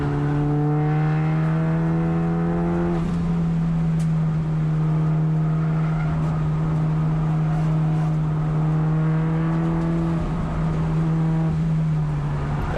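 A Mitsubishi Evolution race car on track at Thunder Hill East, its engine droning loud and steady from inside the car, with the pitch shifting slightly as it holds speed through the lap.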